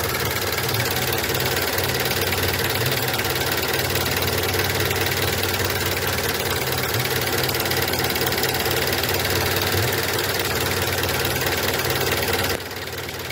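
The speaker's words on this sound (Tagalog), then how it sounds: "grabe yung engine vibration" Car engine idling with heavy vibration during an idle speed control valve test, a loud, steady, close rumble with a rhythmic knocking pulse that drops away abruptly at the very end.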